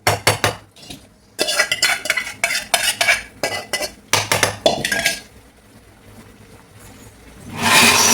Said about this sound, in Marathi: सगळं पळीनं कणी परतून घ्यायचं आणि ह्या वर कणी आता झाकण ठेवून देणार आहे मी थोडा वेळ